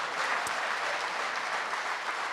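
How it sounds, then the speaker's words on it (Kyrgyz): An audience claps steadily at a lecture by Bakai Akylbekov, a dense, even round of applause that fills the whole stretch without a break. "Кол чаап койсоңуздар болот."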